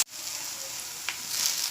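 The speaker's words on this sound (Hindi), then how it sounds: "उसको हम उस वक्त तक भूनेंगे जब तक इसका पूरी तरह गिलगिलितपना न जाए, और चम्मच बराबर हिलाते रहेंगे" Okra sizzling and frying in a pan while being stirred with a spoon, a steady close hiss with one brief scrape of the spoon partway through.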